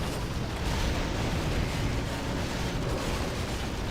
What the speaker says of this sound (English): Still with the mortars.